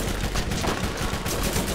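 SMG fire in the Borderlands shooter game, a brief dense continuous burst of rapid shots, loud and close with no gaps.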